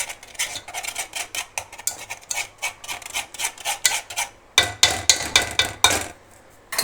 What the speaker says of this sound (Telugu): దాన్ని ఇంకా మంచిగా మిక్స్ చేయండి. ఇక్కడ పెద్ద పెద్ద గడ్డలు ఉండకుండా మిక్స్ చేసుకుంటూ వెళ్ళిపోండి.